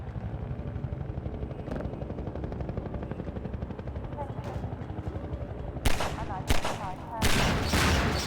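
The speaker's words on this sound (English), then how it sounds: "Good old-fashioned exploding barrels." Barrels exploding in the video game Half-Life, three loud blasts in quick succession near the end, cutting through a steady rumbling mechanical background drone.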